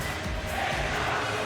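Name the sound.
Estonian fans cheering at basketball game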